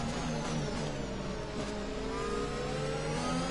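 McLaren Formula 1 car in the F1 2021 racing game, its engine note rising steadily as it speeds past, loud and continuous over a busy background of other engines.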